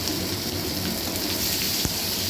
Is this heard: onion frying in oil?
yes